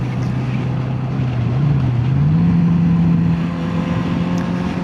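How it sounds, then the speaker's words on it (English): A Honda CB650F inline-four motorcycle engine running steadily with a smooth droning tone that rises slightly in pitch midway, close and loud with no talk over it. "these bikes, inline 4, it still has a good sound"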